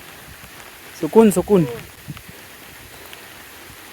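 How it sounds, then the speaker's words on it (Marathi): Rain falls in a village as a soft, steady patter throughout, with a voice speaking briefly over it near the middle. "बघ पाऊस पडतोय आणि पोरगा भिजतायत"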